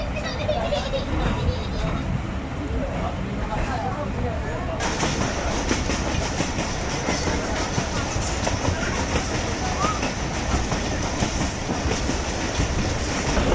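The Ravi Express passenger train runs on rails between Lahore and Shorkot in hot weather, a loud, steady rumble with rhythmic clickety-clack heard from on board, and voices sound faintly through the noise.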